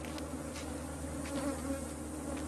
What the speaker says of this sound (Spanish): ¿Cómo esta abeja superagresiva originaria de África pudo llegar a Norteamérica?